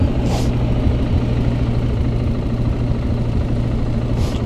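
A loud, modified car engine idles at close range, giving a steady, deep, rumbling drone that holds at an even level throughout with no other sound over it.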